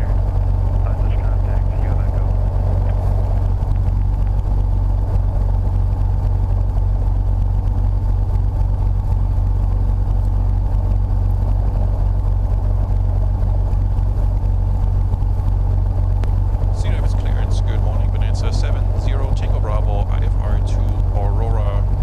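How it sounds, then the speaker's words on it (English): Aircraft engine drone recorded inside the cabin in flight, a loud, constant low-frequency roar throughout, with a person speaking over it near the end. "The engine noise is dominating the waveform."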